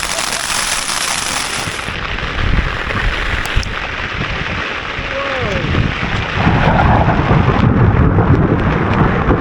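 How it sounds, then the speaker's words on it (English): Thunder rumbling and cracking over a tent during a hailstorm on a wild-camping trip in the Peaks, with dense hail and rain drumming throughout and the storm growing heavier toward the end. "Just heard an almighty crack of thunder."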